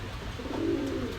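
Pakistani high flyer pigeons, a pair kept for sale in a shop, give a soft, close, low cooing call that swells midway and then fades, with no talk over it.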